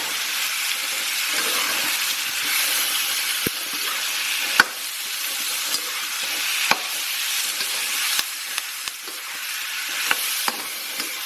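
Thai pork belly sizzles steadily in a hot pan as it is tossed, with a continuous hiss and scattered sharp pops and clacks throughout.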